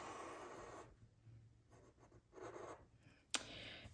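A Sharpie marker drawing on sketchbook paper, several short soft squeaky strokes with pauses between them and a sharp tap near the end, quiet and close.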